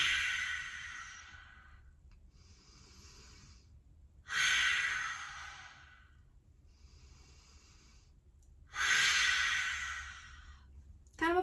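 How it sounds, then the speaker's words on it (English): A person doing yoga practises lion breath. Three strong, hissing exhales come at an even pace, with quiet inhales in between, all close by. "make that little hissing lion breath on the way out"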